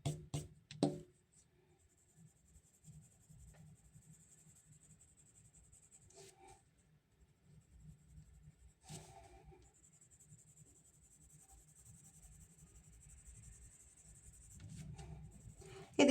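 Pencil scratching hard against paper during an oil pastel drawing session, a steady close rasp of strokes running continuously throughout with slightly louder bursts near the start and end, no talking.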